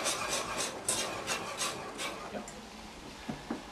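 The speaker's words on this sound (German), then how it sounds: "Und wer mag, kann auch noch ein bisschen Muskatnuss drüber reiben." Nutmeg grated over pasta sauce in a cooking show kitchen, a quiet series of rhythmic raspy scraping strokes up close, fading into softer sounds.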